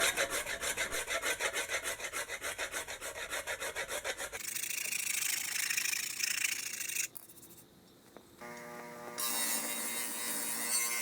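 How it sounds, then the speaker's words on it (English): Rusty metal on a Wheel Horse 704 garden tractor being scraped and then wire brushed, a steady rhythmic rasping of repeated strokes up close, followed by harsher continuous brushing with brief pauses and no talk. "There's some heavier rust on this one, so I'm going to scrape it and wire brush it again."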